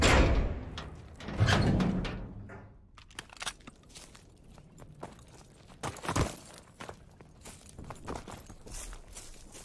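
A heavy door creaks and thuds open in Call of Duty WWII, loud at first with a scraping swing, followed by scattered footsteps and small knocks on a quiet background.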